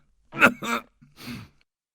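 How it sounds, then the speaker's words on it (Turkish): Three quick coughs in a row, close and fairly soft, with a short pause before the last rough one. "Bir daha öksürüyor."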